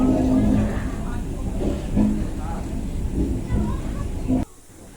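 Inside a moving passenger train, a steady low rumble of the carriage runs beneath nearby talking and a voice, then drops off abruptly near the end.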